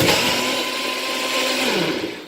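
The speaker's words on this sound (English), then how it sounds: "And then I put in the blender" A kitchen blender whirs steadily at close range while blending peeled tomatoes, a loud continuous motor drone lasting a couple of seconds with no talking.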